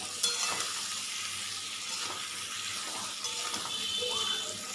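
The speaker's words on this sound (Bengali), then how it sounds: "মশলাটা আগে কষিয়ে নেবো, কষিয়ে নিয়ে তারপর দিয়ে কষিয়ে দেয়" Spice paste for a fish curry stir-fried in a pan, a steady loud sizzle and crackle with scraping stirring strokes running throughout, close by and with no talk.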